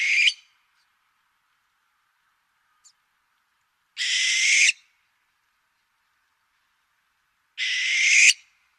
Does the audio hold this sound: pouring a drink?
no